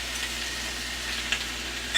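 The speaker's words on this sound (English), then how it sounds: "Let that sizzle." A vegetarian taco mixture sizzles in a hot pan on a stove, a steady close hiss of frying with a small pop near the end and no talking.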